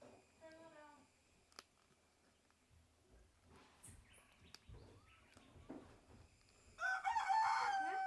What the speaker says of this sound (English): Can you go chase that rooster?